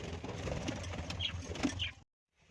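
Pet pigeons in a backyard bird house, soft low cooing from several birds nearby with a couple of brief higher calls, steady for two seconds before cutting off.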